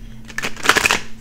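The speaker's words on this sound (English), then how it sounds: "But I'm still going to shuffle and see" Tarot cards are shuffled up close in a quick riffling burst of crisp papery flutters and slaps, loud for about a second with no talk over it.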